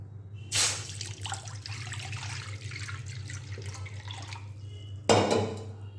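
Water splashes into a wok on a gas stove while a steaming stand sits inside, with two sharp pours at the start and end and a steady low trickle between them, close and moderately loud.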